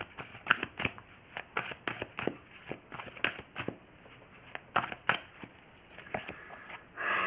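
Tarot cards are shuffled in quick riffling bursts, sharp papery flicks repeating irregularly close up, with short pauses between handfuls and no talk.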